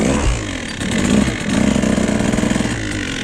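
A 2017 KTM 150 SX two-stroke dirt bike engine buzzes and revs while riding over ice, its raspy drone rising and falling in short pulses close by.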